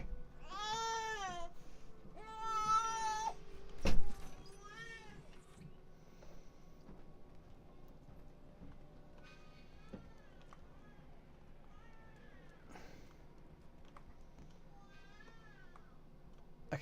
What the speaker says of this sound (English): Can you close the door because there's also a cat trying to get in here